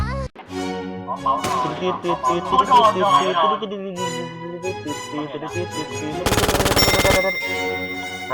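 Video game gunfire rings out in a dense stretch of rapid shots with a louder sustained burst near the end, mixed with music and tonal game effects.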